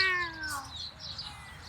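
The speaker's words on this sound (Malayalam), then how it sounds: "അവിടെ ഒരു പൂച്ച സാറുണ്ട്." A cat meows once, close and clear, with a falling drawn-out tone, followed by faint background noise.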